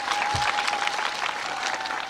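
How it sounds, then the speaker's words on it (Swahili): A crowd at an outdoor political rally in Embu claps for the President, dense steady applause filling the air close by, with a faint voice underneath. "Kwa hivyo tukimpigia tu Mheshimiwa Rais kwa maono yake makofi"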